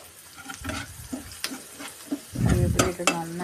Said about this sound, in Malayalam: കറിവേപ്പില ഇട്ട് നന്നായിട്ട് വഴറ്റിടാൻ.